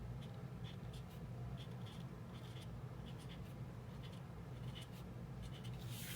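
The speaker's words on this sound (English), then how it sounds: "I'm gonna grab the bullet tip and just write expenses." A Tombow pen's bullet tip writes in a dot-grid planner, giving soft, steady scratching strokes close by in short bursts over a constant low hum, with no talking.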